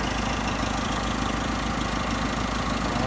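A Deere snowblower mounted on a backhoe runs with a steady idling engine drone, loud and close, continuous without a break.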